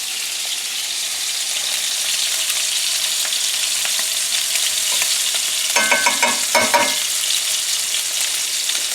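Thin lamb chops fry in a pan with a steady, bright sizzle throughout, broken near the end by a brief burst of crackling spatters.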